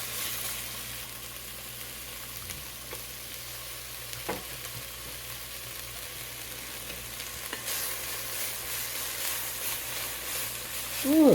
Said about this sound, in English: So let's give this a good stir.